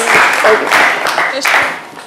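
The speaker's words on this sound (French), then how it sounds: "Toutes nos félicitations renouvelées par ces applaudissements." Audience applause on a French-language midday television show, a brief burst of clapping under and between a presenter's speech, fading toward the end.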